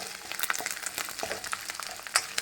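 Tempering sizzles in hot oil for a ridge gourd and sesame-flour curry, a steady crackle with scattered sharp pops, close and moderately quiet, with no voices.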